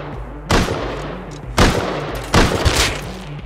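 Sharp, loud gunshots from the survival video game Rust, three separate blasts about a second apart, each with a short rumbling tail, with no talk over them.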